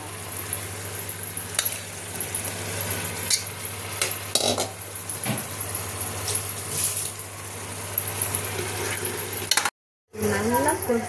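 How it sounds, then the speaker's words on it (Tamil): Marinated chicken pieces with garam masala, yogurt and salt sizzle steadily in a pan for biryani, with utensil clinks and scraping over a constant low hum, continuous at moderate loudness, briefly cut out near the end. "சிக்கனை அதில் போட்டுடலாம். அது நல்லா வதங்கணும்."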